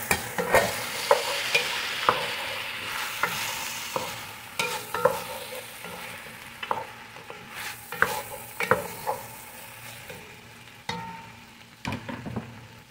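Two tomatoes tossed into a hot pan for a mung bean and diced trevally dish sizzle steadily, with sharp utensil clacks and stirring scrapes recurring throughout, close and fairly loud, with no talking.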